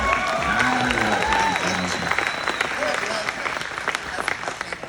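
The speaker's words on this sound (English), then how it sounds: "We should be clapping for that." Brief clapping and light cheering from a few people in an interview setting, mixed with overlapping talk and laughter, fading toward the end.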